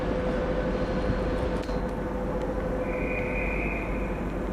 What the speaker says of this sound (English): That's the only loco we've got at Doncaster.